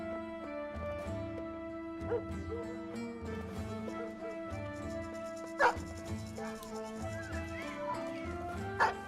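Dogs bark repeatedly in the video game Battle Brothers, several sharp barks and yips over a steady tonal musical score, with a horse whinny mixed in, moderately quiet and continuous.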